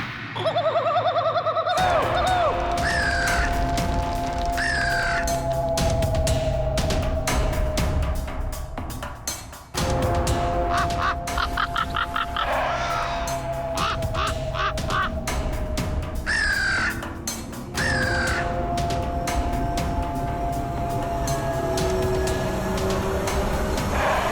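Crows cawing loudly and repeatedly alongside other birds, a dense, near and continuous chorus of harsh calls with a steady background hum throughout.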